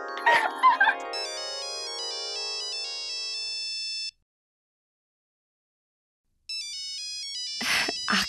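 A melodic phone ringtone plays loud and close, pauses for a couple of seconds of silence, then rings again; brief voice sounds at the start and end.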